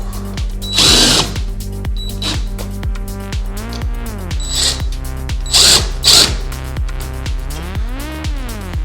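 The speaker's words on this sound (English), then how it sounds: "I'll screw this to the wall." A cordless drill drives screws to fix a hexagonal storage organizer to a wall, with repeated whirring bursts that rise and fall in pitch, short pauses, and a few clicking ratchet-like clutch sounds, loud and close.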